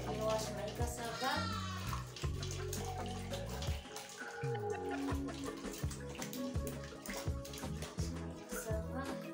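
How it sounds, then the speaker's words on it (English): Peeled cassava is washed in a basin of water in a village kitchen, with continuous sloshing and splashing close by under frequent talk, including a voice. "Now let me wash my cassava."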